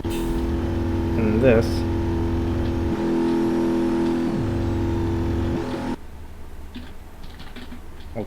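Ford 6.0 Powerstroke diesel engine in BeamNG.drive revving with a steady drone that rises in pitch, holds, then drops before cutting out near the end, while a person talks over it.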